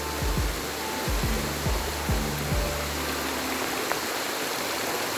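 Steady rain and runoff rush over a road in a continuous loud hiss, with a few low thumps near the start.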